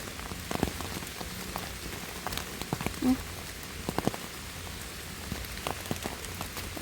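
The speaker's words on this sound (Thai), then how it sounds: "ฝนตก" Rain falling in a forest during mushroom picking, a dense steady patter of drops on surfaces with scattered louder close hits, continuous and fairly near.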